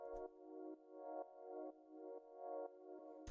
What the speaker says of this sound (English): The next thing we have here is the pad, which sounds like this.